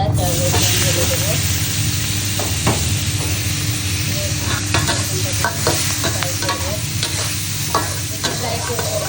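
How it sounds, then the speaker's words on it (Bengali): Onion and garlic go into a pan of fried prawns and hiss in a steady, loud sizzle throughout, with faint stirring scrapes on top and no talk. "চিংড়ি মাছটা ভেজে নিয়েছি, এখন এখানে পেঁয়াজ আর রসুন ঢেলে দেবো।"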